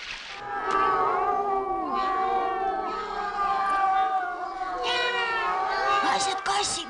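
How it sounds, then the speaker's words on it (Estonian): Hungry cartoon cats meow and yowl repeatedly in high, wavering cries, several overlapping calls sounding loud and close with no talking over them. "Vaesed kassid, nad on vist hirmus näljased."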